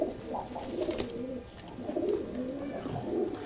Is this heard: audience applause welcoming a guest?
no